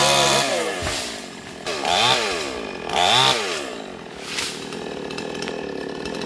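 A chainsaw cuts through tall, smooth rubber trees, its engine surging and dropping in several repeated revving bursts as the blade bites, loud and close with no voices.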